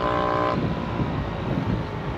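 A loud motorbike engine roars close by on a road during a journey from Chile to Uruguay, a brief tonal whine at first giving way to a constant heavy rumble.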